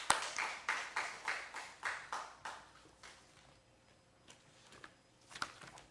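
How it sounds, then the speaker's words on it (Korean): A church congregation claps in unison, about a dozen strong rhythmic beats that fade into scattered faint claps, quiet and somewhat distant with no talk. "자 하나님께 영광의 박수 올리겠습니다."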